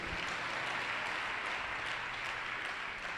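A church congregation claps together in one sustained burst of applause, a dense even wash of hand claps filling the whole moment with no voices standing out.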